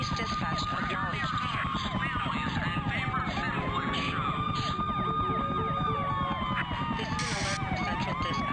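Wailing emergency sirens from the SimCopter video game, ambulance and police types, sweep up and down continuously and loudly, layered over dense game noise.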